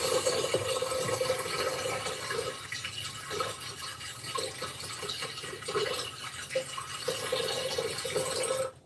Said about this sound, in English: But if they're running water, pouring a cup of coffee, it comes in so loud.